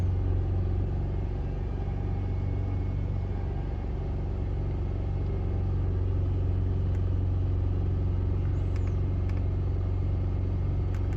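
A Mercedes SLK engine with a fuel trim fault held at raised RPM, a steady, unchanging idle-like hum and rumble droning close up throughout.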